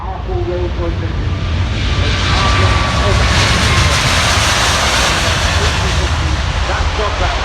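An Airbus A350-1000 (F-WLXV) with Rolls-Royce engines roars loudly and continuously during a Farnborough International Airshow display departure and steep climb, a thick, close jet rumble with commentary underneath.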